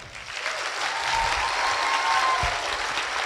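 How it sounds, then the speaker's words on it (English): An audience at a middle school chorus Christmas concert applauds, a broad, steady wash of clapping swelling after the first second and holding throughout, moderately loud in the hall. "So we can applaud that."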